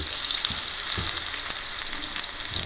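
Loud, continuous hissing sizzle from a hot pan, with faint pops and soft knocks scattered throughout, close up and without voices.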